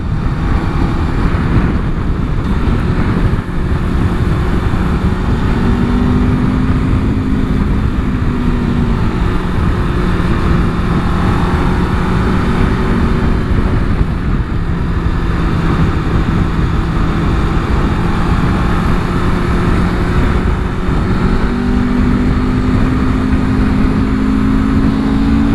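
A 2026 Aprilia RSV4 motorcycle with a replaced four-cylinder engine rides on the road, its steady loud engine drone and wind rush continuous throughout, with gentle rises in pitch as it pulls.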